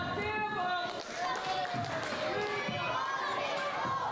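A wrestling arena crowd at a tables, ladders and chairs match chants loudly and rhythmically in unison, a dense wall of many voices that fills the space without a break.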